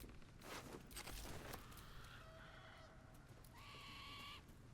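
A bird calls within Baldur's Gate 3, a short tonal honking cry that rises over background footsteps and game ambience, quiet and without any voices.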